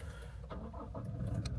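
A car with an automatic gearbox starts by push-button, a short mid-pitched engine crank rising into a steady idle within under two seconds, close by and without talk.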